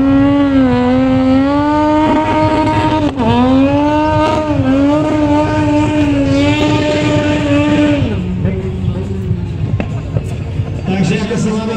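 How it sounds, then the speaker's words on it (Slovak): A motorcycle drifts on a race track with a loud, sustained engine whine that rises and falls in pitch as it revs, close and continuous throughout. "driftovať bude aj motocykel, nie len Erik zo Sma"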